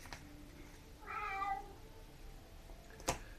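A single cat meow, a drawn-out harmonic call lasting about half a second, stands out clearly over a quiet room with faint background noise and a short click near the end.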